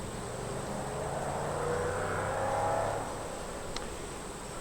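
Honey bees buzz around an open hive during an inspection after a box is added, a steady close drone that swells in the middle and then settles, with a brief click near the end.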